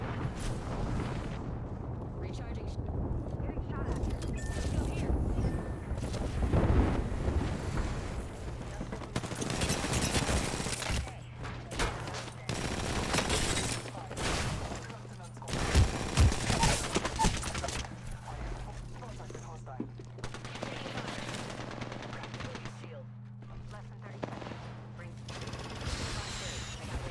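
Gunfire and explosive blasts from an Apex Legends match come in irregular loud bursts over a low steady hum, with quieter gaps between the volleys.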